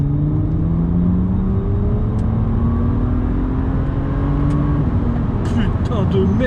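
A BMW Z4 35is engine pulls hard under acceleration, its drone rising steadily in pitch for several seconds, loud and close, with a brief shift in tone near the end.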